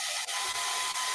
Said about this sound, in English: This is my trick for doing eyelashes, is using a hairdryer.